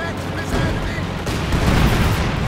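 Fragmentation bombing strikes in the wartime strategy game Company of Heroes 2: a dense, continuous wash of rumbling blasts and crackling battle noise that stays loud and close throughout, with no pause.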